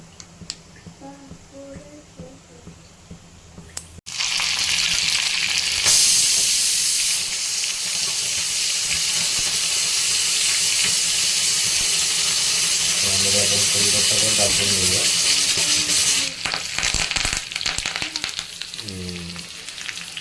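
Green chillies hit hot oil already crackling with mustard seeds in a home tempering. A sudden loud sizzle bursts in and holds steady and close, while a voice speaks briefly before it and now and then during it.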